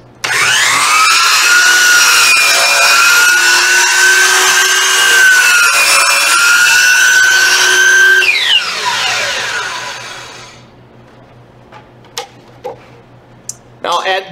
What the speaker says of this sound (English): sometimes the saw likes to bind up when we cut these wide boards, so I'll start by making a plunge cut at the back